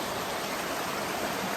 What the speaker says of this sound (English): Look how fast this water's flowing.